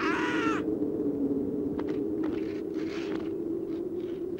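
A short burst of cartoon bird chatter opens, followed by scattered crow-like caws and scrapes of birds being chased off, over a constant low hum.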